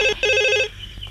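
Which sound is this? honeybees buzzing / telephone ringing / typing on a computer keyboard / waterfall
telephone ringing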